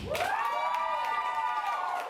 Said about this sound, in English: Round of applause if it's Ashley.